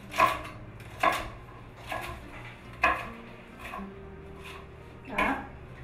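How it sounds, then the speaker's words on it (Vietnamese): Chinese celery stalks are chopped into pieces with a knife on a cutting board for Vietnamese sour fish soup, giving about six crisp, distinct knife strikes at an uneven pace over a low background hum. "Rồi tiếp tục cắt khúc."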